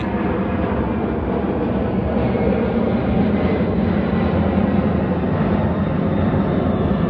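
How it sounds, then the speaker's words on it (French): An airplane passing overhead gives a steady, loud, broad engine roar that fills the whole stretch without fading, with no voices over it. "Désolé, j'ai un avion qui passe là"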